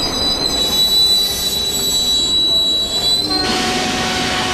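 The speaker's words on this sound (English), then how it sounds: "and the train comes to a halt" A Mumbai commuter train brakes to a halt on its rails, wheels squealing in loud, sustained high screeches over a rumbling, clattering run that shifts near the end.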